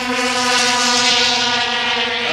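A steady, droning engine roar from race vehicles blasting three wide into turn one at a pond race in central Minnesota, a dense buzzing whine holding close and loud throughout.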